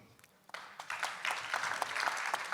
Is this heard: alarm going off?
no